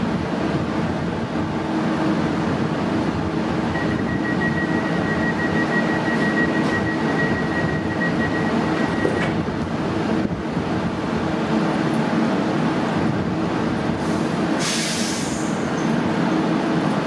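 A train rolls steadily through a station at Lockerbie or Carlisle with a continuous rumble and clatter, a thin metallic squeal rising partway, and a brief hiss near the end.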